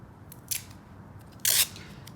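Scissors trim material for a wall hanging, two sharp close snips, a short one and then a louder longer cut, over a quiet room background.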